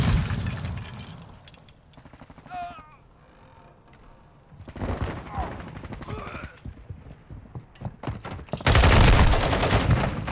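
Rapid bursts of automatic gunfire in Modern Warfare 2, loud dense volleys at the start and a heavy sustained barrage at the end, with quieter stretches and a voice talking in between.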